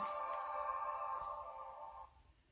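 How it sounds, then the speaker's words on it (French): Start-up chime of an Elephone P3000S Plus smartphone powering on: a faint, soft tonal jingle that holds for about two seconds and then fades, heard alone with no talking. "le téléphone est en train de s'allumer"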